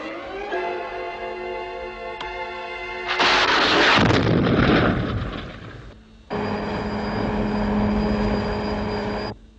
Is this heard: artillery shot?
yes